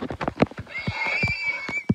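A horse in the Minecraft video game whinnies loudly alongside short thumping clip-clop hits, close and clear with no talk.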